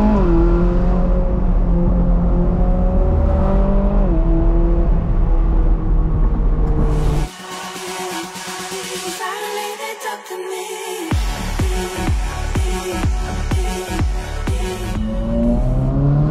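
A Ferrari 458 pulls away at full throttle, its loud engine note rising steeply toward high revs, then cutting abruptly before a harsher, rasping burst of exhaust and rev crackle returns.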